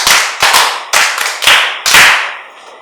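An audience applauds in a few loud, sharp bursts of close clapping, each rising suddenly and tailing off, with brief gaps between them and no voices.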